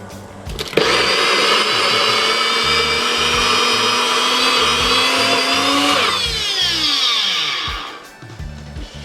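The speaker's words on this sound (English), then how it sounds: "If it's a high-speed blender, it should be able to cut through all of that." A loud high-speed blender whirs steadily at close range blending sea moss, then winds down with a falling pitch before a short restart.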